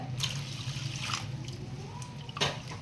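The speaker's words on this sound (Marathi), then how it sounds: "आता हे आपण ह्याच्यात पाणी घालून चांगलं असं गाळून घेऊ गरम पाणी घालूया" Hot water is poured over ground crab masala to strain it for the gravy, making a steady close trickle with a few brief splashes.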